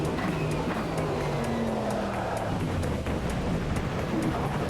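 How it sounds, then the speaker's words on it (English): A formula race car engine in Automobilista 2 screams steadily at high revs, with gear changes and faint tire noise, loud and unbroken with no talking. "I'm gonna do a non-talking lap."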